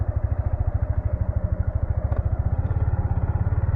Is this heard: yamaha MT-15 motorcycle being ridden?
yes